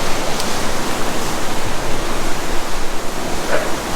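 Water fountains splashing outdoors in Singapore on a morning, a dense, steady rushing roar like a waterfall that holds loud and even throughout.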